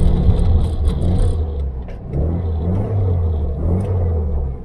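A 1974 VW Beetle engine idles and revs in a steady, throaty rumble, the pitch lifting slightly partway through, heard close with no talking.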